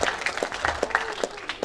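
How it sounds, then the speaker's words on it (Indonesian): An audience at a startup event applauds steadily, a dense patter of clapping hands at moderate volume with no voices over it. "Berikan tepuk tangan yang meriah."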